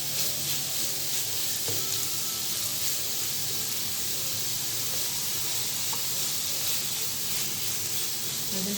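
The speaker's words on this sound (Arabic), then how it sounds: "غادي نحاولوا باش نقليو الدجاج حتى كيشد راسو" Chicken breast fries in very hot oil, a dense continuous sizzle and crackle with occasional pops, close and steady throughout with no voices.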